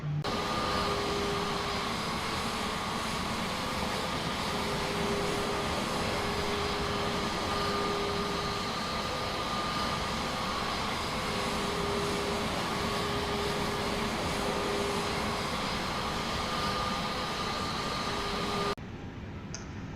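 Aircraft taxiing in Microsoft Flight Simulator, a steady engine whine and hum with faint tonal drones, loud and unchanging for the whole stretch before dropping off abruptly at the end, with no talk.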